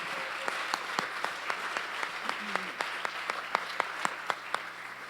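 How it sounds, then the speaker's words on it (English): At a worship summit session, a group gives a round of applause for the worship team, with steady crowd clapping and distinct sharp claps standing out at a moderate distance and a faint voice underneath. "just give a clap to every team member"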